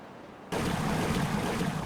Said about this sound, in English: Here comes the water